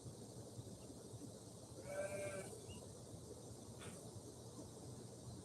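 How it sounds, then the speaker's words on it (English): A single faint goat bleat rises briefly from the distance in Costa Rica over a steady background hum and outdoor noise. "I just heard the goat uh, sounding off in the background"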